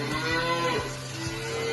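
Cattle low repeatedly inside a noisy shed on an Irish family dairy farm, several overlapping moos at moderate distance with a busy background hum.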